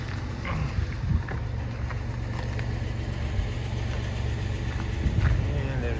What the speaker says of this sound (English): She idles just fine.